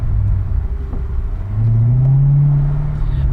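A car engine drones after an automatic downshift into a lower gear, a loud, close, low rumble with the pitch climbing steadily and holding higher as the engine revs.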